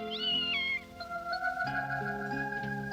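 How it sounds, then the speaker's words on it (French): A cartoon cat meows in a few clear, melodic calls, close and loud, with a musical score playing underneath and no talking. "Il n'arrête pas de faire miaou."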